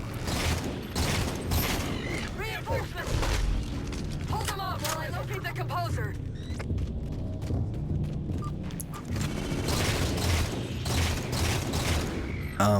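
Rapid gunfire bursts from Halo 4 weapons crackle through a busy game mix of mechanical clatter and booms, with a voice talking over much of it.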